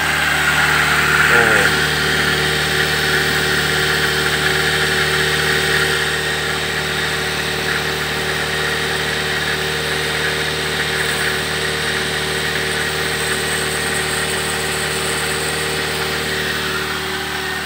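A Daihatsu Xenia engine idles steadily after a full tune-up, with a close, even mechanical hum and faint vibration that holds level for the whole stretch.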